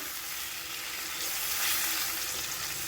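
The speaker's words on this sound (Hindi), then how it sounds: "इसे अच्छे से हम फ्राई कर लेते हैं" Marinated chicken pieces sizzle and crackle in a hot pan, a steady, close frying hiss that swells slightly midway, with no voices.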